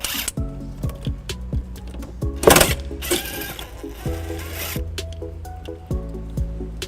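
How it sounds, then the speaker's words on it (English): A plastic trim cap on a 2012 Toyota RAV4 is squeezed and pulled out during a trailer wiring install, giving a string of close, crisp plastic clicks and snaps with one louder rustling grab partway through. "I'm going to go ahead and just squeeze it and pull it out."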